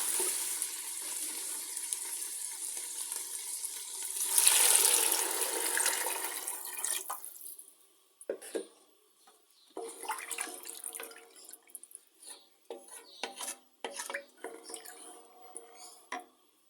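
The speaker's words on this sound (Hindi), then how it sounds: "अब मैं इसमें डालूंगी पानी।" Water pours onto roasted chickpeas in a cooking pot, a rushing splash that fades after several seconds into scattered drips, clinks and handling noises.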